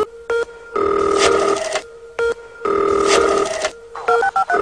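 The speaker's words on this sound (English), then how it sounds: "Do you ever get nervous when you first start to dial someone's number and you hear the phone ring?" A telephone rings in two long, warbling bursts with short tones between them, loud and close, with nothing else heard.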